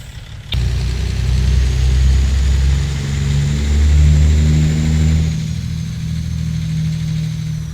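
Freightliner Classic FLD truck engine in American Truck Simulator, a deep loud diesel rumble that starts abruptly, revs up as it pulls away, then settles lower.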